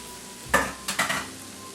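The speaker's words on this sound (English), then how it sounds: "Our onions have started to brown, so we'll add our sweet potatoes." Sweet potatoes tip into a pan of browning onions, setting off a loud burst of frying sizzle, then a few quick stirring scrapes that fade back to a quiet sizzle.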